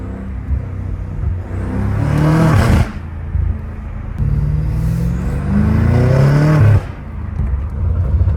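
A BMW M5 Competition engine tuned to 617 hp revs hard twice, each roaring climb rising in pitch before cutting off abruptly, loud and close.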